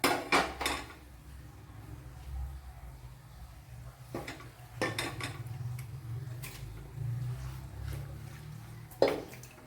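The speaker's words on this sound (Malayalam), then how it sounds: "ഇതിനെ ഒന്ന് കുക്കറിലോട്ടാക്കാം." Squid masala is scraped and tipped into a pressure cooker, giving scattered metallic clinks and knocks of utensils against pots over a low background hum, close and moderately quiet.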